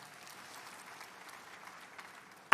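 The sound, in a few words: congregation applause in church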